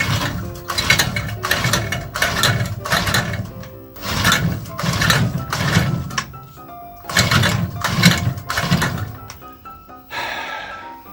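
Garden tiller's small engine being choked and primed but not starting: repeated rhythmic bursts of mechanical cranking and clattering, close and loud, with brief pauses between attempts.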